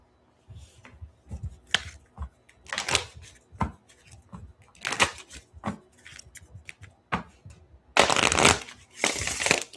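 Oracle cards are shuffled in a string of crisp riffling bursts, some short and some longer, close by with brief quiet gaps between them and two loud, long shuffles near the end.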